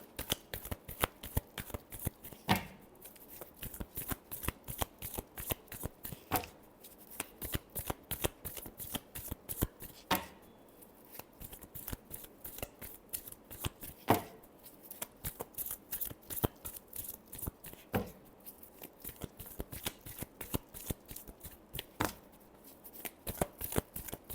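A deck of tarot cards is shuffled again and again, each riffle giving a sharp, rapid flutter of snapping cards, repeating in close bursts with short pauses, close and fairly quiet, with no talking.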